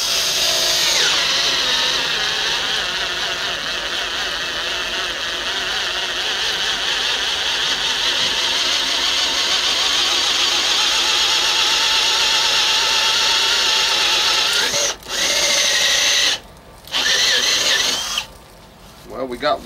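An old Makita drill fitted with an auger bores a hole, giving a loud, steady high-pitched whine and grind that runs without pause before cutting out in a few short bursts near the end.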